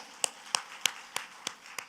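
A church congregation clapping in a slow, even rhythm, six sharp claps spaced roughly a third of a second apart, fairly close and crisp against a quiet background, with no talking over them.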